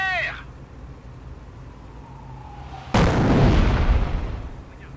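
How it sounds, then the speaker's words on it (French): An incendiary artillery shell barrage in a video game opens with a faint whistling descent, then a single loud explosion hits and a rumbling burst decays over the following seconds. "Les obus incendiaires arrivent!"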